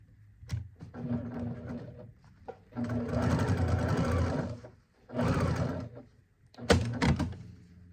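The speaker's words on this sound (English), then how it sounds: "I'm going to stitch across from that point to that point." A sewing machine stitches across folded fabric in three close, loud whirring bursts, the longest about two seconds, separated by quiet pauses with small clicks and handling sounds.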